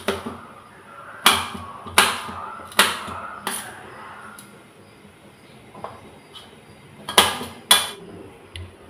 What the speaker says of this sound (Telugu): ఉల్లిపాయ, పచ్చిమిరపకాయ కట్ చేసుకుంటున్నాను. చిన్న చిన్న పీసెస్గా కట్ చేసుకోవాలండి.